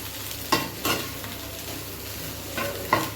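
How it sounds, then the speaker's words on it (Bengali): Coriander and cumin powder being fried and stirred in a pan, a soft continuous sizzle broken by several sharp scraping stir strokes in two pairs, close and fairly loud, with no voices. "অল্প একটু ধনে পাউডার, অল্প একটু জিরা পাউডার। ভালো করে ভাজা ভাজা করে নিলাম।"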